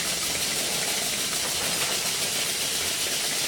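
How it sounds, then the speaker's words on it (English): A Stuart D10 model steam engine fed by a Stuart 504 boiler runs with a loud, continuous steam hiss and busy mechanical chuffing, close and steady throughout. "off the safety valves one by one, and the engine should run properly after that"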